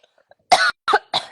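Three short coughs come in quick succession, close and fairly loud, each a brief harsh burst with a tiny gap between them.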